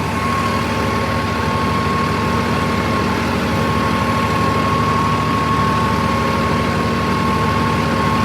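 A Swaraj 969 CRDi tractor with a 9 ft super seeder runs steadily at close range, a loud, even low rumble with a constant hum that doesn't change throughout.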